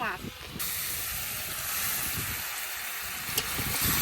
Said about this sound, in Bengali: মশলাটা খুব ভালোভাবে কষিয়ে নিচ্ছি